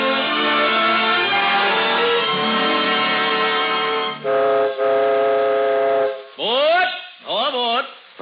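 A radio-drama train sound effect plays loud: a long, chord-like horn blast, then shorter horn blasts, ending in two bending, swooping whistle calls.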